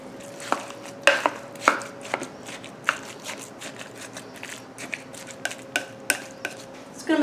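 Sliced sausage discs tossed together inside a crock pot, making a run of sharp clacks and scrapes from a utensil hitting the pot walls, fairly close and with no talking.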